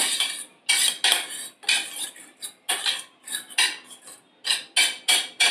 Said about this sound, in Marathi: आपल्याला एक चमचा दही वाडग्याला लावून घ्यायचं आहे दही आपण पूर्ण भांड्याला पसरवून घेऊयात